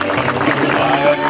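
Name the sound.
audience applause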